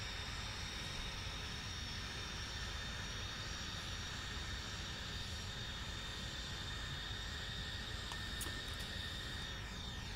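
Steady roar of DC-10 jet engines in the Prepar3D flight simulator, a constant broadband cabin drone with a faint high whine, continuous and even without any talk.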